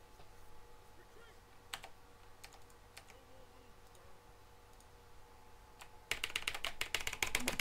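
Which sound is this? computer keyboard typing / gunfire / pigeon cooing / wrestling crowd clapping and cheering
computer keyboard typing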